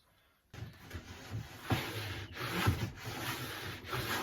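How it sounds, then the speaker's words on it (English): A hand plane takes shavings off a book-matched wood edge on a shooting board, making repeated close, rasping strokes that begin abruptly, each a gritty swish with soft knocks between passes. "and just take off shavings"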